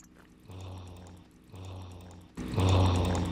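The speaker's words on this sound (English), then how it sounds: "while standing in the small kitchen filling up our empty water bottles" Water running from a kitchen sink tap into empty water bottles in the zombie survival game Project Zomboid, three pouring bursts in a row, the last one louder and fuller as the bottle fills.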